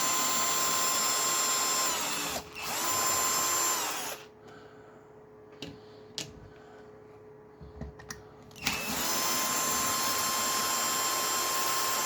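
A two-speed power drill unscrewing screws from a Traxxas E-Maxx brushless RC truck during teardown, a loud sustained whine near the mic, then a quiet stretch of small clicks before the drill spins up again.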